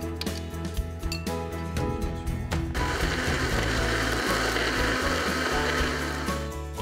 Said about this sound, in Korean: 귤을 반으로 잘라 알맹이를 꺼낸 후 믹서에 갈아주고요.